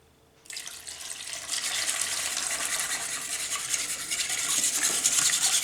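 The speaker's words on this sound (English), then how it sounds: "Let's give a little whisk till this egg, butter and the vanilla combine together." Egg, butter and vanilla being whisked together in a bowl, a close, continuous wet swishing that starts suddenly and grows slightly louder, with no talking.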